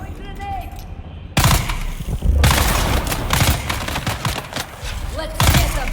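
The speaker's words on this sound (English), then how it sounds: "Throwing grenade." Grenade explosion in Dune Awakening, a sudden loud blast followed by heavy gunfire and booming impacts in dense layered bursts, with a voice speaking now and then.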